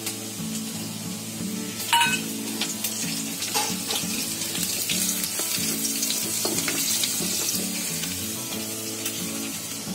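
Ginger, garlic and slit green chillies fry in a pan with a continuous loud sizzle and crackle, occasional stirring clinks, and faint background music throughout.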